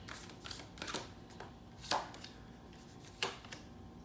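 Tarot cards being shuffled and pulled for a pick-a-card reading, heard as soft papery riffles and a few crisp snaps scattered across a quiet room, with no talking.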